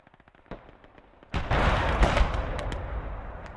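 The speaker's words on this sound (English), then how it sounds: "I'm going to start incendiary bombing these." Incendiary bombing in the World War II game Gates of Hell: Ostfront begins with faint scattered pops. A loud burst of blasts and crackling follows and keeps rumbling at close range.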